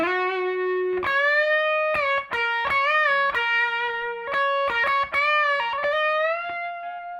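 Electric guitar lead, the second half of the second guitar's solo: a distorted single-note line with repeated phrases, sustained and bent notes near the end, played alone and loud.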